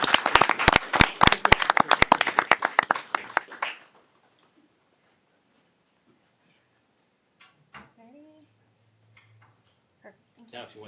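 Audience applause at a city mayor and council meeting, a close, dense burst of clapping hands for a few seconds that quickly dies away into near silence, followed by faint scattered voices and small room noises.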